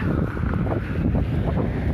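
Strong wind carrying snow buffets and roars across the microphone in a continuous, gusty rumble, loud and close, with no voices, in Yakutsk.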